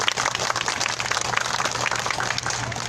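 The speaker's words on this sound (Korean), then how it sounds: "힘찬 박수를 맞아주시기 바랍니다" A crowd at an outdoor weekly rally claps to welcome a speaker, producing a dense, continuous patter of applause at a moderate distance that holds evenly throughout the clip.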